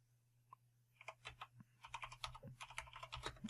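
Fingers type on a computer keyboard in a quiet room, first a few sparse taps, then a quick, steady run of close, crisp key clicks, with no one speaking.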